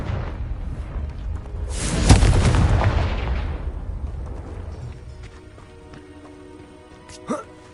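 A Confringo fire spell from Hogwarts Legacy bursts with a loud booming explosion that rolls and fades over several seconds, followed by quieter game sounds and a short sharp pop near the end.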